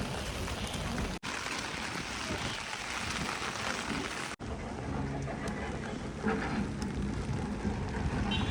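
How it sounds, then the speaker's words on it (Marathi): Heavy rain at a village temple, a dense continuous broadband hiss pouring down steadily and loudly throughout, with a couple of abrupt cuts and faint background voices. "पाऊस पण भरपूर आहे."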